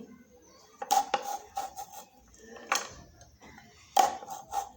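A knife slices four slits into raw green tomatoes on a board, producing a few quiet, separate taps and knocks with soft scraping between them, close and faint.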